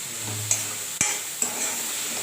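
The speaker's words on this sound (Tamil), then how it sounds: "நல்லா மிக்ஸ் பண்ணிக்கலாம் உப்பு போட்டால் மட்டும்தான் இப்போ வர தக்காளி வந்து கரையுது வதக்குது நல்லா" Tomatoes sauté with salt in a pan while a spoon stirs them: a steady, close sizzle runs throughout, broken by three sharp utensil scrapes or knocks against the pan.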